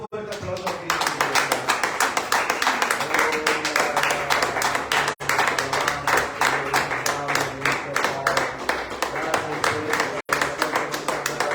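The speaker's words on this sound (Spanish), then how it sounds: "Dale un fuerte aplauso a Cristo." A church congregation at a Sunday evening service claps in a fast, steady unison beat for Christ, loud and close, with voices singing or calling out over the rhythmic clapping throughout.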